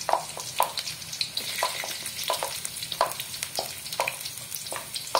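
Shallots and garlic sizzle in a small amount of oil for an Indonesian stir-fried mustard greens and cauliflower dish, a close, crackling fry punctuated by regular stirring scrapes of a spatula.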